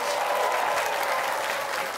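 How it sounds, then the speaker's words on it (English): Audience applause at a high school quiz show, a dense, steady wash of clapping from a crowd that holds at full strength for the whole stretch with no talk over it. "Let's have a nice round of applause."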